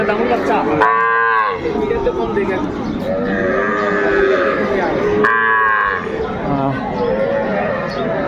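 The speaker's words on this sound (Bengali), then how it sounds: "বেশ সুন্দর সুন্দর গরুগুলা কালেকশন করছে আমাদের সবুজ ভাই।" Cattle, small bulls and heifer calves at a cattle market in Dinajpur, moo loudly several times at close range, long drawn calls over steady crowd chatter and someone talking.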